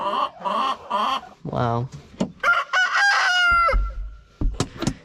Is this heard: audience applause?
no